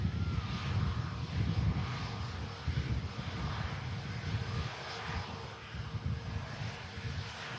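A Virgin Atlantic A330 airliner's engines roar at Manchester Airport, a continuous broad jet rumble heard at a distance, fairly faint and wind-buffeted, with no talk over it.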